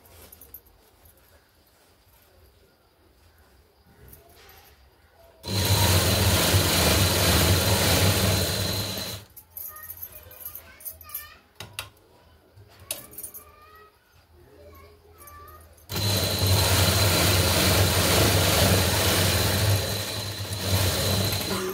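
Sewing machine stitching a blouse seam, running in two loud, steady bursts of several seconds each, with quieter handling and fabric rustle between them and no talk.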